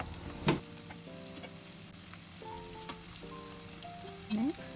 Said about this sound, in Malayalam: ഫ്രൈ ചെയ്തെടുക്കാം ലോ ഫ്ലെയിമിൽ വെച്ചിട്ട് വേണം ഇത് ഫ്രൈ ചെയ്തെടുക്കാൻ